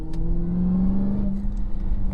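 Dodge Charger Hellcat with a 797 hp engine drones steadily on a tight canyon road, a low sustained engine note with a slight rise in pitch, heard from inside the car.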